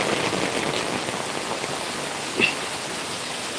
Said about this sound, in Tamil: நல்ல மழை